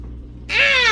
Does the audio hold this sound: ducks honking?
no